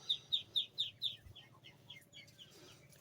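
Ducks quack on a farm, a series of about five rhythmic, fairly faint calls followed by softer, scattered quacks further off, with no talking.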